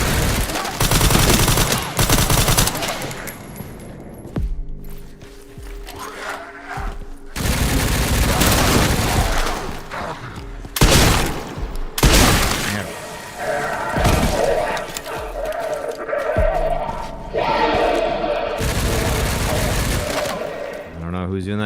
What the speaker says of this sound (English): I don't know who's doing that shooting.